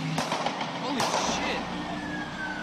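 Gunfire from a police shooting filmed by a bystander on a US street: sharp impulsive bangs cut through the mix, followed by a rising tone resembling a siren, loud and close against busy background noise.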